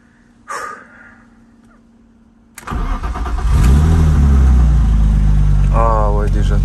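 A BMW E36 320i with a rebuilt centre exhaust section cranks and fires up, settling into a loud steady idle close by after a quiet pause, with a brief voice at the start and another near the end.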